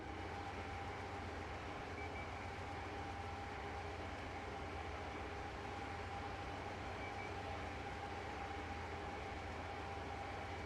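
Train running in the Rail Sim Universe video game, a steady low rumble with a constant hum across the whole stretch, fairly quiet and continuous with no talking.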